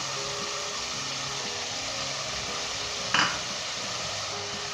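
Chicken fries with ginger and garlic while fried onions go in, giving a steady broadband sizzle with a single sharp clink or stir stroke partway through and no talking.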